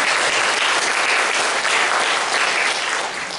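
Loud, dense applause from a church congregation clapping for children's drawings, a close, continuous roar of hands that eases slightly near the end.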